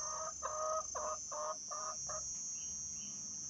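A hen near a backyard coop in Malaysia gives six or so evenly spaced, close clucks, then falls quiet against a constant high insect whine.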